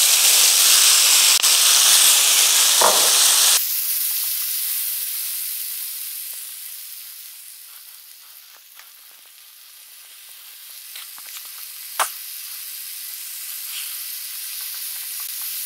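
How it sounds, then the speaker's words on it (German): Tomatoes tipped into a very hot frying pan with a spoonful of olive oil give a loud, steady sizzle that drops sharply after a few seconds into a softer, continuous frying hiss with occasional pops and a stirring clatter. "Pfanne ist volle Pulle und wir machen die Tomaten rein."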